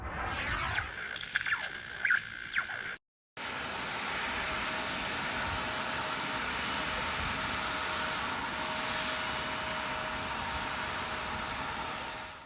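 Cabin drone of a domestic airliner on a flight out of Shinshu Matsumoto Airport, a steady broadband roar with a faint tonal hum that runs on evenly after a brief cut at the start, with no talk.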